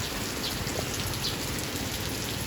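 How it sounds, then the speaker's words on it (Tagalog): Steady rain falls and patters on surfaces in a constant, even hiss, with no voices. "Maulan na kahaponon."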